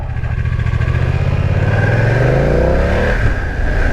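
A 2023 BMW F 900 XR motorcycle accelerating on the road, its engine loud and close with a steady, rising drone that climbs in pitch through the gears, mixed with constant wind rush.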